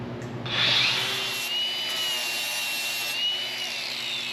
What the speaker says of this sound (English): I'm cutting off as close as I can to it, and then I'll grind in